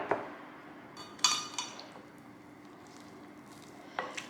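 Mashed potatoes are mixed with liquid in a pot, heard as quiet, close clinks and knocks of a utensil against the pot. A few sharper taps stand out over a soft background, and nobody speaks.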